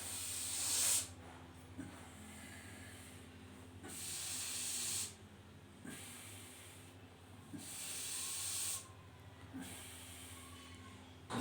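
Slow, deep breaths during a yoga breathing exercise, long airy hissing inhales and exhales alternating at an even pace of roughly two seconds each, faint over a low steady background hum.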